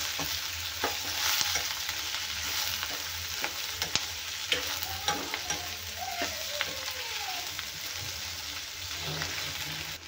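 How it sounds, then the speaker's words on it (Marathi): Twelve dried red chillies roasting with onion and tomato in a pan for a chutney, giving a soft continuous sizzle with occasional spatula scrapes and taps, fairly quiet and steady throughout. "12 लाल मिरच्या घेतल्यात मी, तेही भाजून घेऊया याच्यासोबत"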